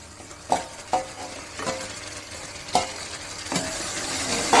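Mutton fries with ginger and garlic in a pan for gongura mutton, a low steady sizzle broken by several close, sharp scrapes and clanks of stirring, with a louder clatter at the end.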